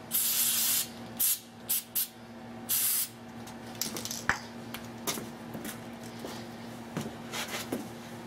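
WD-40 LTCI lubricant sprayed from an aerosol can in several short hissing bursts during the first three seconds, followed by faint light clicks and taps in a quiet room.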